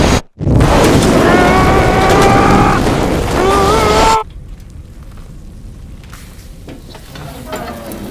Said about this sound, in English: they're going to come locked and loaded with some frag grenades, and you're going to get blown the hell up